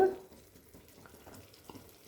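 Masala for Udupi-Mangalore chicken urval fries in a pan with a soft, steady sizzle and occasional stirring scrapes, close and fairly quiet, with no talking.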